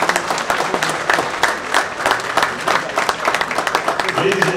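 An audience at a gathering in New York applauds, a dense patter of clapping from a crowd, steady and moderately loud throughout with some voices mixed in.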